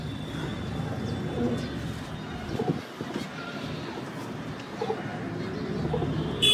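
Domestic pigeons coo softly in a home loft: low, murmuring coos over a continuous breezy outdoor background, with no one speaking.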